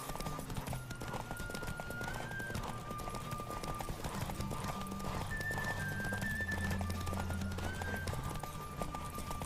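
A horse gallops in The Witcher 3, its hooves pounding out a steady rhythmic clip-clop at a quick pace, with brief whinnies and faint game music underneath.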